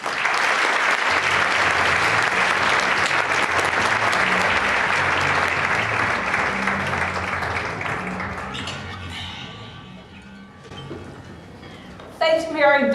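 An audience applauds to welcome a leadership speaker onstage, a loud sustained burst of clapping that fades out after about ten seconds before a voice starts speaking.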